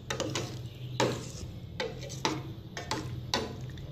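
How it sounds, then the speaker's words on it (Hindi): Plum chutney with white and red chili being stirred in a pan, a spoon scraping and clinking against the metal in irregular strokes, close and fairly quiet with no talking. "इसे अच्छे से मिक्स कर लेंगे"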